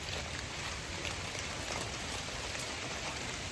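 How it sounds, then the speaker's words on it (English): Dense, steady hiss of heavy rain pouring down, constant and enveloping, with no pauses or voices. "It is pouring."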